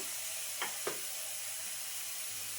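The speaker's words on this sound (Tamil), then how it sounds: "இதையுமே நல்லா வந்து எண்ணெயில் வணக்கி விட்டுறணுங்க" Ground masala paste fries in oil for a soya and potato kuzhambu, a steady, low hiss of sizzling broken by two quick spoon scrapes early on. Nobody talks.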